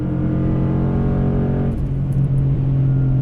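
Ford Boss 302 with a naturally aspirated 5-liter V8 accelerating hard on the Laguna Seca track, a loud, close, steady engine roar heard from inside the car that shifts pitch partway through, no talking.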